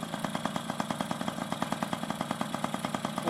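A Yamaha QT50 moped engine fitted with an SHA carburetor idles close by, a steady fast putter of evenly spaced firing pulses at moderate volume.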